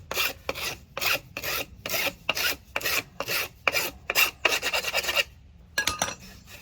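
A file rasps back and forth across the cut end of a plastic drain pipe, about a dozen loud, close strokes in a steady rhythm with brief pauses, then a short final pass.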